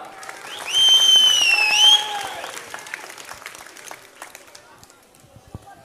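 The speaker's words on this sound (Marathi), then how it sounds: "त्यांच्यासाठी जोरदार टाळ्या वाजवा" A felicitation ceremony audience bursts into loud, dense applause for about a second, with a tonal whistle riding over it, then scattered claps and crowd noise trail off.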